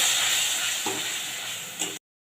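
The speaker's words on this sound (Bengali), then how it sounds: "যতক্ষণ না আদা রসুনের কাঁচা গন্ধটা যাচ্ছে ততক্ষণ আমি একটু ভেজে নেব" Ginger, garlic and chili paste frying in a pan, a loud continuous hissing sizzle with a faint stir midway, then cutting off abruptly into silence.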